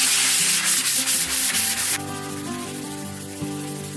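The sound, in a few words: hand sanding filler paste in circles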